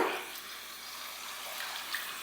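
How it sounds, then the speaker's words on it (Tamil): Water splashes and trickles softly as a little is sprinkled into a vegetarian side dish being mixed in the kitchen, a faint continuous wash close by. "தண்ணி வந்து கொஞ்சமாக அப்படியே தெளித்து விட்டுருங்க"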